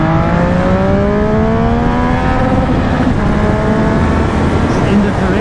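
A 2020 Triumph Speed Triple RS motorcycle engine revs hard near the top of its range, a loud, close, continuous rising drone under wind noise with a voice present.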